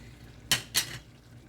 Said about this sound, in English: Just use the back of the spoon and just push those beans around in the pot.